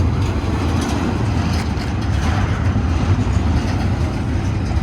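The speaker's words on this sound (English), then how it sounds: "I don't think this train's gonna stop anytime soon." A train rolls past close by in a continuous loud rumble of wheels and railcars, the heavy low roar steady throughout with no talking.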